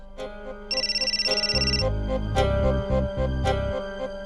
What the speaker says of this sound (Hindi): प्रीति भाभी का फोन